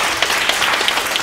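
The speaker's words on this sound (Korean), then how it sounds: "우리 이정현 의원님께 다시 한번 여러분 큰 박수 한번 부탁드리겠습니다." An audience at a Daegu Nam-gu district council youth ordinance event claps steadily, a dense, continuous round of applause with crisp overlapping hand claps throughout, no talking.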